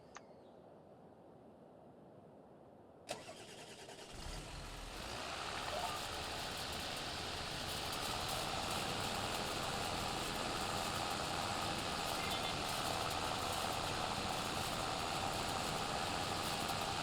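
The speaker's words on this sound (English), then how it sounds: "we'll jump back to our John Deere tractor" A John Deere tractor engine starts up after a quiet moment and then runs steadily, the rumble swelling to a constant, fairly close drone out in the field.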